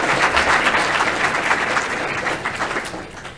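A crowd at a university graduation ceremony applauds a student speaker, a full, thick round of clapping that holds strong before gradually thinning and softening toward the end.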